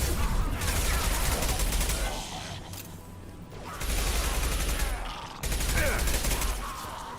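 Sustained bursts of submachine-gun fire in Mass Effect 2, loud and dense, in two long volleys broken by a short lull and with faint voices mixed in.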